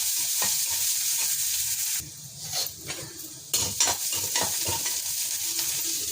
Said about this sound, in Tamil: வெங்காயம் பச்சை மிளகா நல்லா வதங்கிடுச்சு